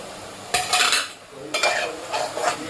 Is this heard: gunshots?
no